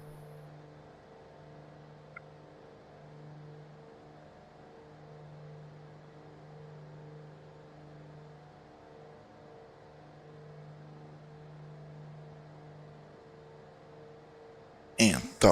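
Propeller aircraft engines in Microsoft Flight Simulator, throttled back on approach with props set to flat pitch, give a steady low droning hum throughout with a brief louder burst at the very end.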